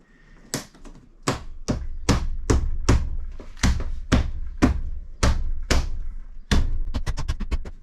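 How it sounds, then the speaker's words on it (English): Loud, close thuds from a rubber mallet banging ceiling trim into place inside a Citroen Relay / Fiat Ducato-type van, a dozen or so evenly spaced blows ending in a quick burst of lighter taps. "Right, and young Harry here is the trim basher."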